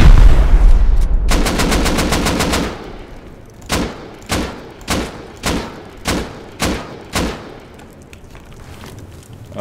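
Rocket explosions in a raid on a launch site in a video game, starting with a dense rapid burst of blasts, then a steady series of about eight loud, evenly spaced booms, close and with no talking.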